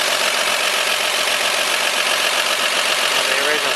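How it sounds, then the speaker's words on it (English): Original six-cylinder engine of a 1951 Chevy truck, once a fire truck, idling steadily nearby with a dense, even mechanical hum and no break in level. "Original 6-cylinder engine. Runs, doesn't smoke, doesn't use any oil."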